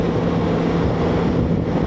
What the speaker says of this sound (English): it is windy out here in the canyon too